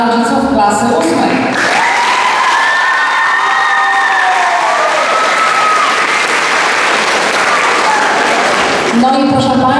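A school audience of parents and pupils at an eighth-grade farewell ceremony claps loudly and steadily with some cheering, while a voice speaks over the applause at the start and end.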